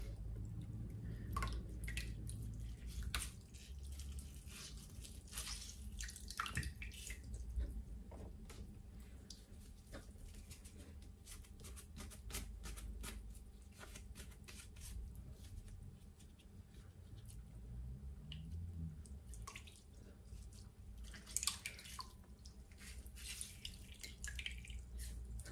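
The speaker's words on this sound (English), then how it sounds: "I just want to dip those in a little bit of starch as well while I've got it going." Liquid starch drips and patters from Elizabethan wrist ruffs freshly dipped in it, a scattered run of small close drops over a low steady background hum, with no talk.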